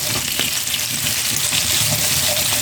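Fat sizzles and crackles steadily in a pan as chopped chili pepper and garlic are added to crisp fried qeshta, a dense continuous hiss with small pops throughout.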